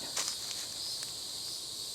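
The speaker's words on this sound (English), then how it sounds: "Can y'all hear that sound that sounds like cicadas?" Cicadas buzz in the woods with a faint, continuous high-pitched drone, steady throughout, with a few soft rustles or footstep-like taps on the path below it and no speech.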